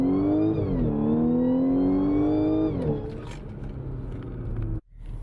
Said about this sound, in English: Just a short wide open throttle pull. See how loud it gets.